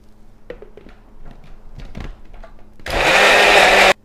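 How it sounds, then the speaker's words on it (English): A countertop blender whirs loudly for about a second, blending a jalapeno, lime and tomatillo mopping sauce with ginger ale, after a series of soft kitchen clunks and handling knocks. "And now we'll blend it."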